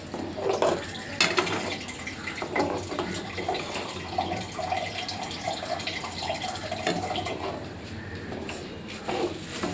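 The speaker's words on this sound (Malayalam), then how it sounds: "ആ ജാറിലേക്ക് ശകലം വെള്ളം ഒഴിച്ച്" Water is poured into a mixer jar holding leftover masala for an egg curry, giving a soft, continuous splashing and trickling over several seconds with light kitchen clatter.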